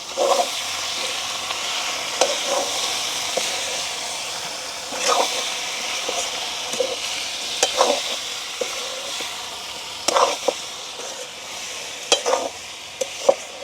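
Ambarella curry with sauce is stirred in a pan, a steady low sizzle broken by repeated scraping clatters of the spoon at irregular intervals, close and without talk.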